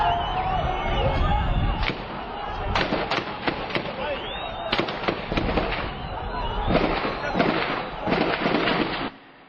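Gunfire crackles in an outdoor street clash, with irregular sharp shots and bursts, some near and loud, over a noisy crowd background and shouting voices, before cutting off abruptly.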